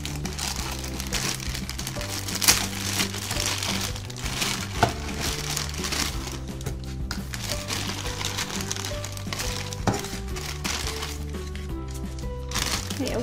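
A plastic bag holding Barbie bedroom furniture pieces crinkles and rustles continuously at close range during unpacking, with occasional sharper crackles and a voice speaking now and then.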